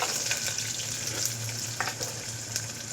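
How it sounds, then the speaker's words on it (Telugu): Onions sizzling in hot oil with whole spices such as peppercorns and cloves, a steady broadband frying hiss that stays loud and close throughout with a few small crackles and no talk. "ఉల్లిపాయ ఫ్రై అవ్వాలండి"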